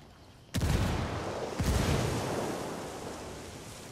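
Two heavy booms from frag grenade explosions in Ghost Recon Wildlands, loud and close, each a sharp blast followed by a long rumbling decay that fades slowly.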